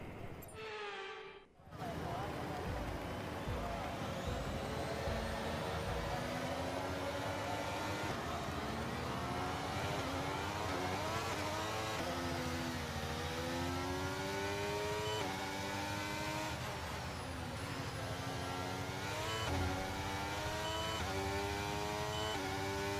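Race car engine in the video game Championship 94, revving continuously and loudly through rising and falling gear sweeps, with wheel spin at the season opener in Australia.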